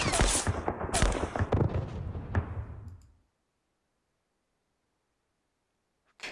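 Gunfire in a World War II Philippines campaign war game, a dense, loud burst of crackling shots and booms for about three seconds, cutting abruptly to silence, with a brief sharp sound right at the end.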